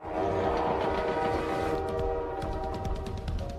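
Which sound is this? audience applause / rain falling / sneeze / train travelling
train travelling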